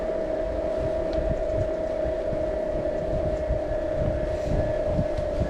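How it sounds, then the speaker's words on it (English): Specialized Turbo Vado 4.0 electric commuter bike with a 250 watt mid drive motor and 70 Newton meters of torque, climbing out of a wash, giving a steady whine over continuous rumbling wind and road noise. "Let's see what this 250 watt mid drive with 70 Newton meters of torque is capable"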